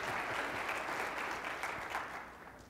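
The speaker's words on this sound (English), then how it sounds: "You don't have to applaud." Audience applause at a criminal justice panel, a dense, sustained patter of many hands clapping that tapers off gradually toward the end.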